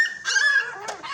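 Two-week-old puppies cry in a short burst of high, thin whimpering yelps nearby, with a sustained whine followed by a quick sharper yip.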